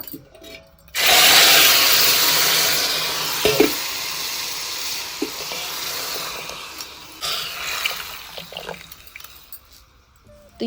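Nigella seeds hit hot mustard oil for a tempering, bursting into a loud, bright sizzle that fades gradually over several seconds, with a few clinks and pops near the end.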